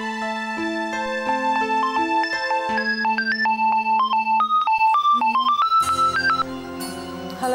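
A mobile phone ringtone plays a bright, clear melodic tune of rapidly stepping electronic notes, loud and close, continuing for several seconds with no one speaking over it.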